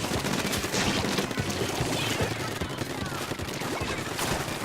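The Aerospray RG spraying weapon in Splatoon 2 fires in a dense, continuous rapid stream of loud sputtering shots mixed with game effects, steady throughout with no clear pauses.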